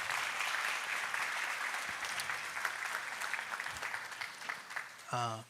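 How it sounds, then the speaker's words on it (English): A town hall audience at a 2025 budget meeting applauds neighborhood officers. The clapping is steady and moderately loud and tapers toward the end, with a brief voice near the close. "y'all give these people a round of applause."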